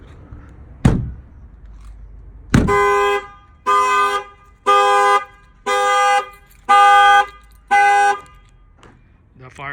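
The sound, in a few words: Jeep Rubicon factory car alarm triggered by window shock sensor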